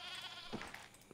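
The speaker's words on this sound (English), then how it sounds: "Check out the goats." Goats in the video game Card Survival give a brief, faint bleat that stands alone in a quiet moment.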